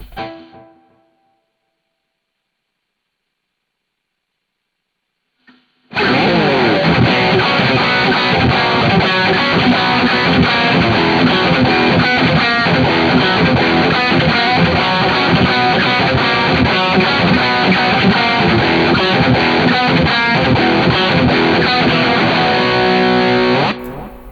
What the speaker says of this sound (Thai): ช่องที่ 7 นะครับ ผมจะเลือกใช้เสียงรีเวิร์บนะครับ ก็จะเป็นเสียง HD Hall นะครับ